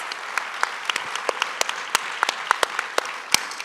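An audience applauds steadily, a dense patter of clapping with individual sharp claps popping out, no voices.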